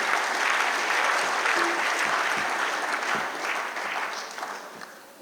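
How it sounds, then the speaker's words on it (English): Steady, dense audience applause fills a lecture hall at the Emeka Anyaoku Lecture Series, holding loud before gradually thinning and fading toward the end. "Please, another round of applause for him."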